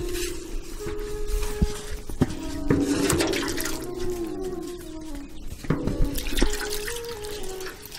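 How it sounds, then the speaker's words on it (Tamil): Castor oil is poured into palm jaggery syrup boiling for sugar candy, giving a steady bubbling, sizzling liquid sound with irregular splashes and crackles throughout. "சார், இது பதம் மார்க்கு விளக்கணி ஊத்துறங்க."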